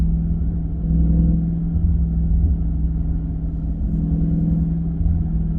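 A 2023 Chrysler 300C with the 6.4-liter HEMI V8 pulls in 5th gear, a deep steady engine rumble from inside the car that holds fairly constant throughout.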